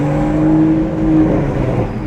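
A Toyota A91 Supra's engine running close by, checked for an exhaust leak, with a droning exhaust note that swells briefly and then settles back into a steady hum.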